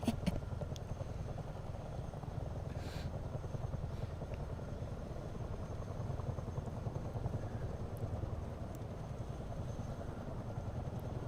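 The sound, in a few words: Chinook helicopter flying in video game MSFS 2024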